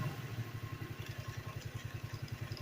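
A Phatmoto motorized bicycle engine has just started and idles steadily nearby with a quick, even chugging pulse and light mechanical clatter, heard alone without voices.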